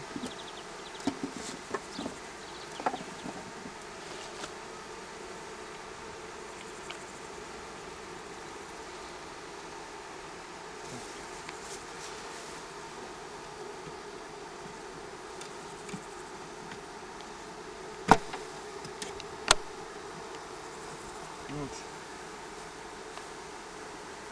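A steady, soft drone of many honeybees from a swarm buzzing fills the air throughout, punctuated by a few faint clicks and taps as hive frames go in.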